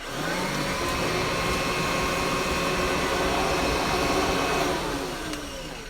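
A reconditioned vacuum cleaner runs steadily and loudly throughout, its motor roar carrying a faint whine from worn, wet-sounding bearings, with no voices.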